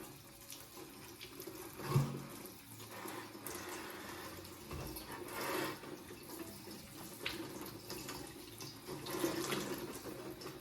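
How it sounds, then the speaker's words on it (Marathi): Cucumbers are washed under a running kitchen tap, a steady splashing rush of water into the sink with a few louder knocks and spatters, continuous for about ten seconds with no talking. "या काकड्या आता मी स्वच्छ धुवून घेते"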